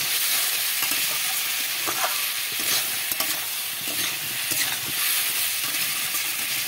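Jackfruit seed curry being stir-fried in a pan, a close, steady sizzle broken by repeated scraping strokes of a spatula, fairly loud and continuous with no voices.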